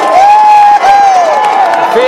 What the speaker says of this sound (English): Fans are liking that. And that's the loudest cheer since Usher went 81 yards.